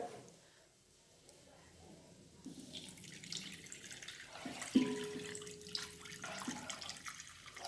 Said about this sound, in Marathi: आता आपण यामध्ये पाणी घालणार आहे